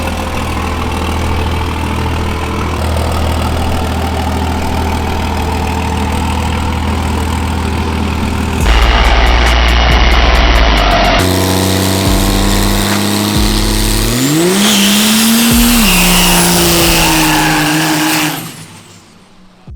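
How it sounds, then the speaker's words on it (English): A Cummins diesel-swapped Mustang rumbles steadily at idle, then revs hard with rising and falling engine pitch and a high squeal as the tires spin through a burnout, loud and close before fading at the end. "the Tier 1 guys insisted on a proper send-off with some Cummins Swap Mustang burnouts"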